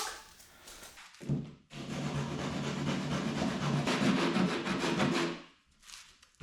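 A sanding block rasps steadily back and forth along a wooden edge for several seconds, close and fairly loud, with short pauses at the start and end.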